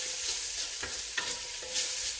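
Bacon frying in hot oil in a pan while beef bourguignon is being prepared, giving a steady close hiss of sizzling with a few brief clanks of stirring across the short stretch.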